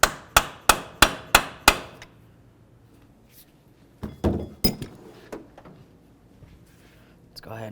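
Six sharp metallic hammer strikes on a punch against an axle nut of a 2007-12 Nissan Sentra ring out in quick succession, then after a pause a few more irregular blows follow, close and loud.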